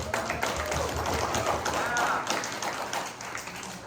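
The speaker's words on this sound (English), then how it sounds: "Let's give her applause." Audience applause for someone speaker at a panel on women in political leadership, steady dense clapping lasting the full few seconds with a murmur of voices mixed in.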